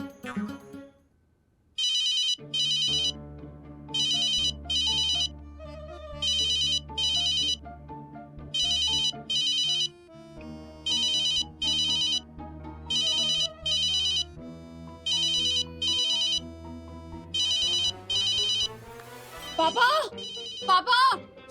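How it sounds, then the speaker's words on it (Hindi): A mobile phone ringtone, an old ringtone kept for years in a Hindi sitcom scene, repeats a bright chiming melody in regular bursts for about twenty seconds while people talk over it. "ये रिंगटोन तो पापा की लग रही है।"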